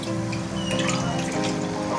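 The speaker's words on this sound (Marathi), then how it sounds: "थोडंसं पाणी टाकणार शिजायला" Water is poured into a kadhai of ghas bhaji greens, a short continuous splashing gush that stays close and steady for about two seconds.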